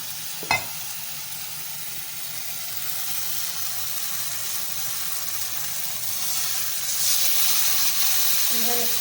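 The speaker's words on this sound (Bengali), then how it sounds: "একটু গরম জল দিয়ে দিই" Hot water goes into a pan where spice paste is cooking for a snakehead fish and jackfruit curry, giving a loud continuous hiss and sizzle that swells near the end after an early sharp clank.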